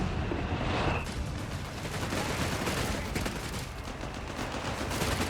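Dense, continuous battle din from Company of Heroes 3: rattling gunfire and heavy machine gun bursts mixed with booming mortar fire near German mortar pits and an American Sherman 105, a loud, unbroken wall of combat noise with no pause.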